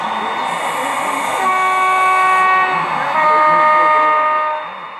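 A model train locomotive horn sounds at a grade crossing in long, loud sustained blasts with a brief pause between them, over a faint background hiss.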